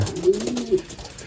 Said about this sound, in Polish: połączyłem gołębie, zaraz jadą na trening